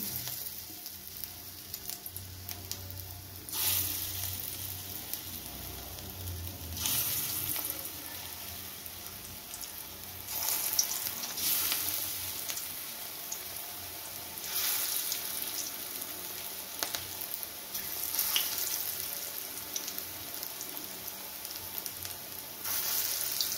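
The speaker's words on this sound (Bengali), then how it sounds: "এতেই বড়াগুলো ভাজবো" Drumstick flower fritters with chana dal frying in a small amount of oil, a steady soft sizzle throughout with occasional louder bursts and light scraping.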